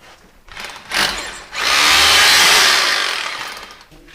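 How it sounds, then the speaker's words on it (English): A power drill with its bit opening a hole in the ground whirs briefly, stops, then runs in a longer loud grinding burst that tapers off, close by. "So we've opened the hole a bit with the drill bit again"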